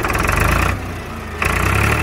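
A Powertrac Euro 47 tractor's engine idles loudly with a steady diesel chug, drops to a lower idle for a moment, then surges back up in a rev.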